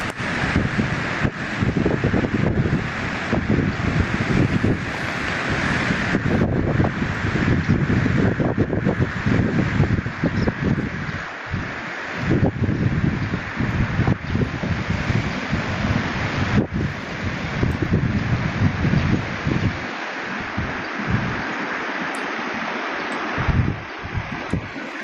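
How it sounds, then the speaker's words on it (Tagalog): Strong wind roars steadily and loudly across an outdoor microphone for the whole stretch, with gusts buffeting it. A low wash of surf or water sits beneath, and there is no speech. "Nagsungit naman, biglang naglakas ng hangin."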